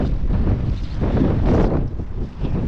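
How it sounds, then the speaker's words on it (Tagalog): Strong wind buffets the microphone in a continuous low roar, loud and close, with gusts rising and dipping throughout. "Lakas ng hangin ngayon."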